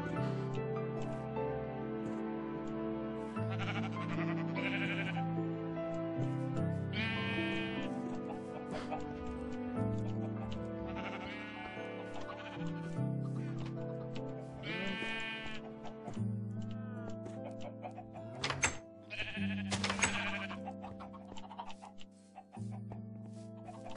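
Several blocky Minecraft sheep bleating repeatedly, with overlapping baas over a steady background music track, fairly close, and a bit of player chatter now and then.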